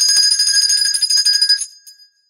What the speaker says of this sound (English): I also have the world's largest and loudest jingle bell.